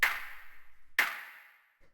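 A piano house clap sample played dry, without bit-crushing, hits twice about a second apart, each a sharp bright crack that rings out into a long smooth decaying tail, with a third hit starting at the end.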